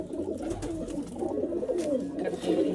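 Pure pigeons kept by a fancier coo in soft, repeated low warbles, several birds close by and overlapping in a steady murmur, with faint human voices in the background.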